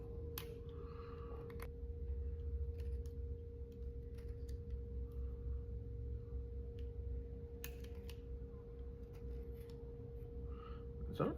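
A brand-new knife blade shaves and cuts a wooden humpback jerk bait, making faint, close scraping strokes in short, irregular bursts over a steady background hum.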